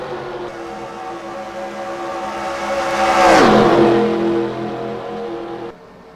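A race car engine in a racing video game revs and climbs in pitch, swelling to a loud peak midway as it passes close, then fading and cutting off near the end.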